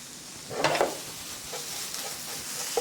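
Onions and potato, with butter and a pinch of salt, stir-fry in a pan: a soft, steady sizzle broken by a brief, louder scrape of stirring, close and with no talking.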